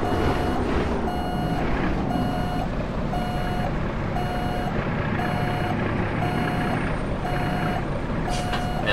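Peterbilt 379 truck backing under a trailer in American Truck Simulator, its reversing alarm beeping in a steady, regular series over a continuous engine drone, loud and close.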